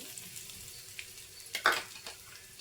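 Nendran banana pieces frying for a Kerala-style snack alongside cashews, raisins and coconut pieces, giving a soft steady sizzle with a few brief stirring scrapes near the middle.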